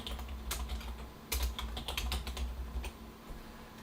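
Rapid typing on a computer keyboard while entering subdomain details, with irregular bursts of key clicks close up and no talking.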